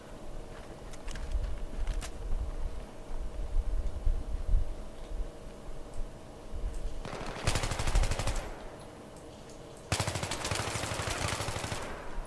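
Two loud bursts of machine gun fire rattle out in the Battlefield 3 video game, each lasting a second or more, over rumbling background battle noise.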